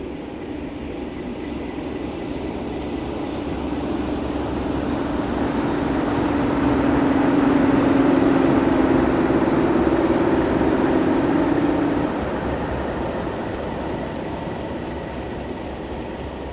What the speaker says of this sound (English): quite a few engineers' trains were around in connection with track work on the Trent Valley